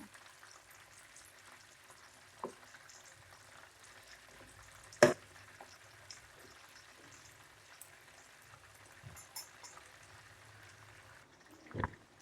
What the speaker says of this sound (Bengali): এখন আমি চিকেনের অপর পাশটাও উল্টে দিব দিয়ে এটাও বাদামি করে ভেজে নেব